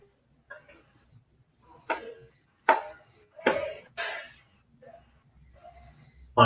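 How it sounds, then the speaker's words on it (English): A dog snores in a quiet room, giving a few short, raspy snorts and breaths spaced irregularly, with faint sounds between them. "That's funny hearing the dog just snore."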